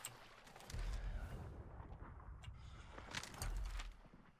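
Distant gunfire in the video game Hunt: Showdown: a few dull, far-off booming shots spaced apart over a low rumbling ambience, with no talk over them.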